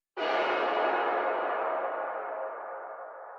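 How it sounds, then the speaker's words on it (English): A single broad, washy sound starts abruptly and hangs in a large, spacious reverb, slowly thinning and fading over several seconds. "I'll take some reverb, or like a fairly big reverb"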